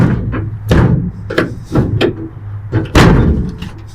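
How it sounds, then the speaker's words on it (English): Several heavy slams and thunks from the door of an old 1966 Chevrolet C10 pickup being shut hard, spaced irregularly, loud and close, with a metallic ring after the biggest slam. "Gotta slam them doors."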